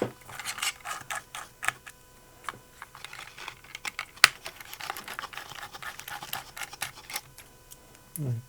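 Tiny screws being worked loose inside a Compaq LTE Lite 4/33C laptop make a run of small, sharp clicks and scratchy ticks at close range, irregular and quick, with one louder snap near the middle.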